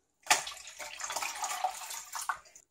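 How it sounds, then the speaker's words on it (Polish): Two litres of water poured into a bowl to make a brine marinade for homemade roast ham, a steady splashing, gurgling stream that runs for about two seconds at moderate loudness with no talk. "Do miski wlejemy 2 litry wody."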